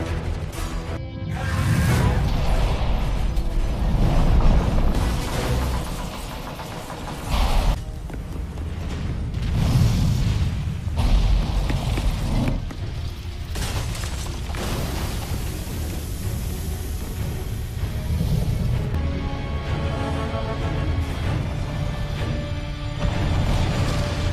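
A bomb blast destroys a Martian factory in a film, heard as a loud, sustained roar of rumbling, crashing noise with brief surges, lasting over twenty seconds without letting up.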